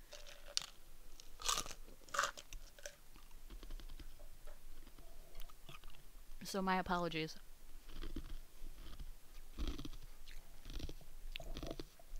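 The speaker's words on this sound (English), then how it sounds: "Sorry, I'm chewing on ice." Someone crunches ice cubes between the teeth in repeated crisp bites, close to the mic, broken up by someone talking and a brief sung or tonal vocal sound partway through.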